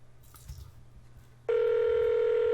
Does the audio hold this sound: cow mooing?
no